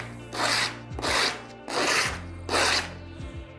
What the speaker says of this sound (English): So just a few times, sands it down really nice, and then you're going to do all four edges.